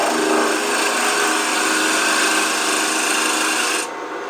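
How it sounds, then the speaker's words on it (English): Lathe gouge making a hammer toe cut on a long piece of cherry wood, a steady loud rasping hiss of continuous shaving close up, easing off toward the end, with no speech. "Anchor the tool, ride the bevel with the hammer toe cut."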